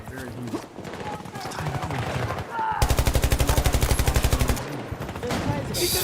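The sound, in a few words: gunfire from a video game shooter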